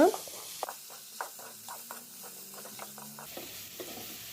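Boiled bitter gourd curry being stirred in a pan with crushed garlic chili powder: a soft, quiet background sizzle under a run of light, regular spoon scrapes and taps, close by and without talk.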